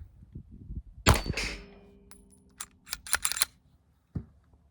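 A CZ 75 pistol magazine being fitted into a SAR B6c handgun, heard as a sharp metallic clack followed by a few lighter clicks and rattles of steel parts, close and otherwise quiet.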